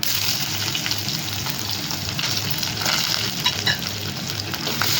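Ginger, garlic and green chillies frying in a pan for bottle gourd curry, a steady broadband sizzle with faint stirring, close and continuous, no voices.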